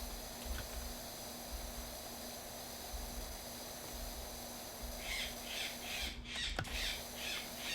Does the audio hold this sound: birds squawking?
yes